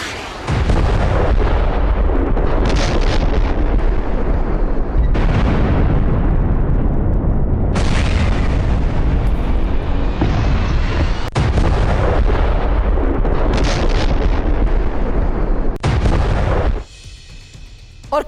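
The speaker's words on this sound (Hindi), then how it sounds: "रूसी सैन्य ठिकानों पर विध्वंसक हमला और तेज धमाके के साथ रूसी टैंक तोप कैसे तबाह हुए" Heavy explosions from a drone strike on Russian tanks and artillery positions, loud repeated booms and blasts filling the whole stretch, several sharp cuts between bursts, fading near the end.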